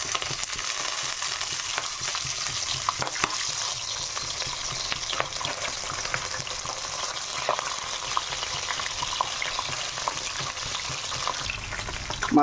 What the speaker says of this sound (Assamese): বন্ধুসকল, প্ৰথমতে মই মাছটো ফ্ৰাই কৰি লওঁ।